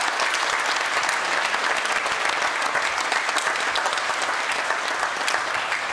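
Theatre audience applauding technicians at the Tivoli after a comedy performance: dense, steady clapping from a full house, sustained at an even level throughout with no talk over it.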